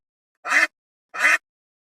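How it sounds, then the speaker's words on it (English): A duck gives two short, evenly spaced quacks, clear and close against complete silence. "duck"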